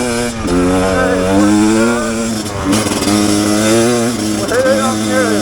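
A Rieju Ranger 300 motorcycle fitted with an FMF Gnarly exhaust runs loud and close, its engine holding a steady, buzzing drone that swells gently with small throttle changes for several seconds.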